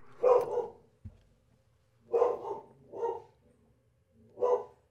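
A dog in a home studio barks sharply four times, close and loud, with short pauses between the barks and near silence around them.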